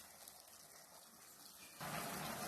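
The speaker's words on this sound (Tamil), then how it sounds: "லைட்டா தண்ணி ஊத்திக்கோங்க" Water pours steadily into a cooking pot of bottle gourd kootu with coconut. The splashing gets suddenly louder and fuller toward the end.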